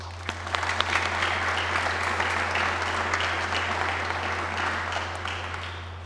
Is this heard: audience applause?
yes